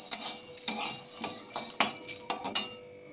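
Whole spices for biriyani masala stirred in a cooking pan, a close series of sharp metallic scrapes and clinks of a spoon against the pan, coming in irregular bursts with no talking.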